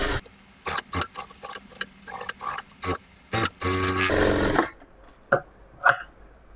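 Domestic sewing machine stitching a layer-cut top: repeated short bursts of rapid mechanical whirring and clattering, close and fairly loud, with one longer continuous run followed by a few faint clicks.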